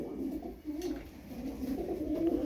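Soft, low cooing from Sarıkır tumbler pigeons repeats in short phrases, nearby and fairly quiet, with faint background noise.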